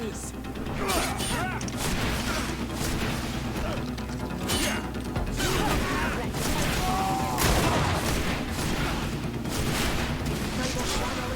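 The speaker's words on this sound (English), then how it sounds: "Grenade!" A grenade blast in the fantasy role-playing game GreedFall, a dense loud battle din of booms and gunfire-like bursts with spoken combat lines over it.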